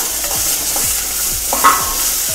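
Onions frying in oil in a home kitchen, a steady sizzle running throughout with repeated scraping strokes of a spoon stirring the pan, close and fairly loud.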